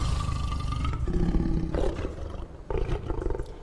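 In The Wolf Among Us, the wolf Bigby lets out deep, throaty growls and roars, loud and close, in several rumbling bursts with short breaks between them and no talking.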